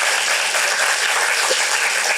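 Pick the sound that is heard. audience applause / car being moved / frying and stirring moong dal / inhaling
audience applause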